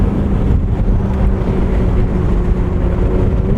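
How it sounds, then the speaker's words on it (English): Wind rushes into the cabin of a 2024 McLaren 750S driving with its windows down, a loud, steady low roar and buffeting that blends with a droning engine and road rumble. "Quite a bit more wind intrusion into the cabin"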